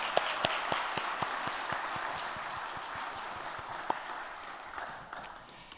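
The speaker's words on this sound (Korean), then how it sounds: "우리 박수로 격려해 주시기 바랍니다." A church congregation applauds together during a Sunday afternoon mission-department dedication service, a steady wash of many hands clapping with a few sharper individual claps standing out, fading slightly toward the end.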